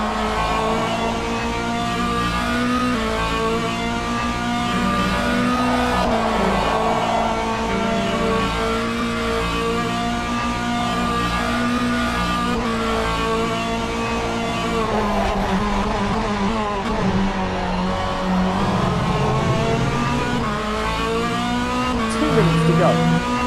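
A hypercar racing at Road America in a sim racing game, its engine note droning steadily and rising and falling with gear changes and corners, close and continuous, while a commentator talks over it throughout.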